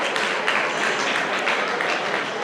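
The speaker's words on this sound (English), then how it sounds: "If you are not dancing like them, you should clap 2 times." A fundraiser audience for a mental health awareness dance performance claps steadily, a dense, even wash of many hands applauding at close range with no pauses.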